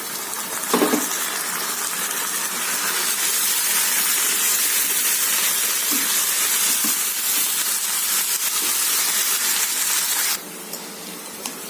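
Chicken pieces hitting a pan of sautéed onions, with a bright, loud, steady hiss of sizzling that runs without a break and then drops off abruptly near the end.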